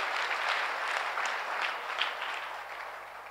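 A church congregation claps together in a sustained burst of applause that starts full and tapers slightly toward the end, with a faint murmur beneath it.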